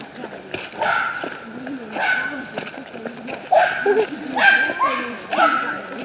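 Several dogs bark and yip in short bursts at an outdoor park, fairly close, mixed with whimpering and people talking nearby.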